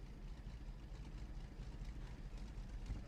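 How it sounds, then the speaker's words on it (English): Tank engines rumble in the World War II game Post Scriptum, a Churchill tank among them, as a steady, low, continuous drone with a gritty texture that holds at an even level throughout. "You can hear the tank crews on both sides. Their engines react to each other."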